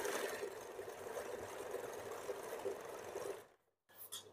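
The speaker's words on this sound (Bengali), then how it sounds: "একটা সেলাই দেওয়ার পর দ্বিতীয় আর একটা সেলাই করতে হবে।" A sewing machine stitching a blouse runs in a steady, fairly loud mechanical whir for about three and a half seconds, then stops abruptly, followed by a brief faint sound.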